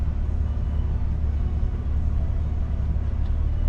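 A car driving plays back from a dashcam recording as a steady low road rumble and engine drone, constant and moderately loud with no talk.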